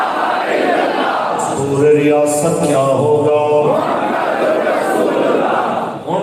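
A large crowd chants a slogan response in unison at an Islamic religious speech, a loud rhythmic burst of many voices between stretches of someone speaking over a public address system.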